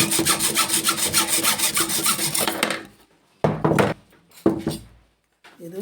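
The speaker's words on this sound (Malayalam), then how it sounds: "ഇനി വേറൊരു പീസ് നമുക്ക് കട്ട് ചെയ്ത് നോക്കാം." A saw cuts through a piece of bamboo in quick, rasping back-and-forth strokes for a few seconds, then pauses before two short bursts of sawing, close and loud, with no talking.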